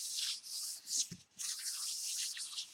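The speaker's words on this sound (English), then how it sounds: "I'm rubbing and rubbing." Paper rubbed by hand over a Gelli printing plate makes a steady, soft, close scratchy friction, continuous apart from one brief pause.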